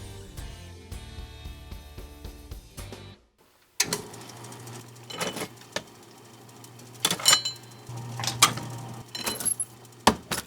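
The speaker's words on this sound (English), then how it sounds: "you start to hear and know the quirks of the press" A letterpress printing press runs with rattling, clanking mechanical action, steady low hum and repeated sharp clacks and jingles, close and fairly loud, with a brief gap of silence early on before the machine resumes.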